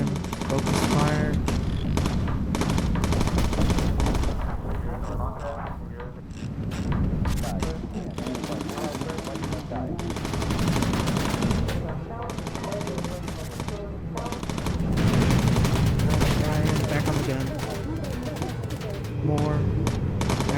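Turret gunners on a WWII bomber in the video game Bomber Crew fire sustained machine-gun bursts, loud and continuous across the whole stretch, layered with game effects and voices talking underneath.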